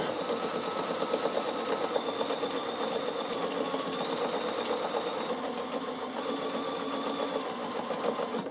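A Bernina sewing machine runs steadily through free-motion stitching, a close, continuous mechanical whir with a fast needle chatter that holds at an even level for the whole stretch.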